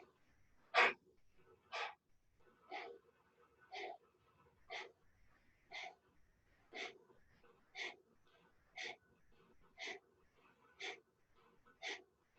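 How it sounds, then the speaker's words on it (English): Deep inhales and exhales during a yoga session, repeated in a steady rhythm of about one breath per second, close and soft, with no talking. "Big inhale, big exhale,"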